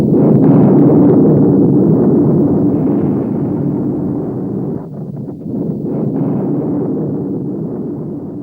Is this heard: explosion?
yes